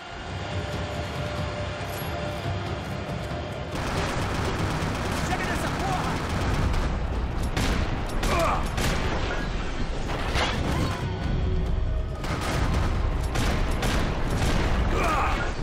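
Dense bursts of gunfire from weapons in the video game Max Payne 3 crackle over a loud rumbling action mix, rapid and continuous through most of the stretch.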